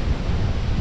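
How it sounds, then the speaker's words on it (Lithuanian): Strong wind roars in a dense, steady rush with rain, buffeting the microphone close up, with no voices. "Prieš tokį stiprų vėją. Per lietų."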